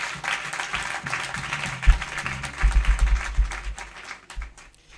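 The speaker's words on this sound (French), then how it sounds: "Je vous prie de lui rendre un vibrant hommage en l'applaudissant." Audience applause at a church thanksgiving evening, a soft, distant wash of many hands clapping steadily, swelling briefly midway and fading toward the end, with some low background noise beneath.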